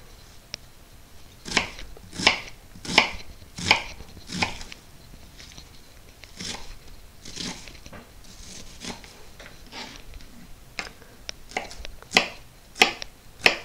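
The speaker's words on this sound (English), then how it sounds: "this is a rough chop, not too fine, but not too big of chunks either." A knife rough-chops onion on a cutting board, a series of sharp, distinct taps in irregular clusters, close and clear with no talking.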